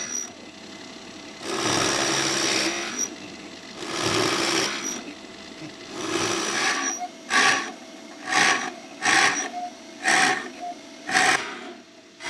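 Drill press boring into a scrap wood guitar plate to a set depth, with several long grinding passes followed by a run of short, rhythmic drilling bursts, close and loud.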